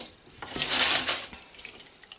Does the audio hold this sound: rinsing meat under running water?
yes